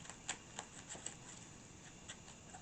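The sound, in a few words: shuffling a Marvel Champions card deck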